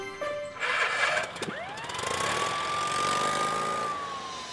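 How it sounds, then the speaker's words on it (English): A cartoon police car siren sweeps upward and then holds a long steady wail over engine rumble and road noise, fairly close and loud. "Morphle, morph into a police car!"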